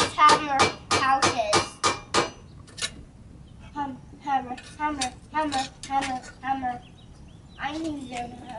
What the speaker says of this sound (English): and ramming it with a hammer